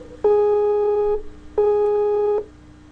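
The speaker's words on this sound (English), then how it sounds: "You'll hear the Skype dialing here in just a second." Two long beeps of a Skype call dialing tone, each lasting about a second with a short gap between them, clean and steady, with no voices.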